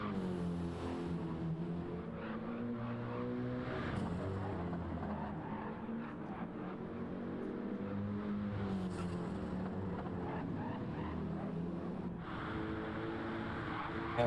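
Race cars in a sim racing game at the Nürburgring 24 Hours drone steadily throughout, engine tones rising and falling as several cars run together, a continuous mid-level roar with no talking.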